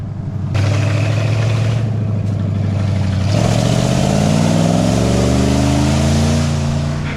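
A 1968 Ford F250 pickup with a 360 FE V8 idles steadily, then revs up and holds a rising, loud, close engine drone with no talking.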